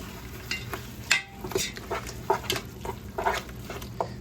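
Scraping and stirring ground turkey into a paste in a pan for turkey and black bean chili, with irregular soft scrapes and clicks of a utensil against the pan, close and moderately loud, no talking.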